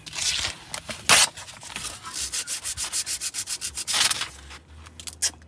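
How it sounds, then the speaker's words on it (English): An Audi brake caliper being sanded by hand, rapid rhythmic back-and-forth scratching strokes, close and fairly loud, in bursts with a steady run of strokes in the middle and no talking. "Fuck it, sand it."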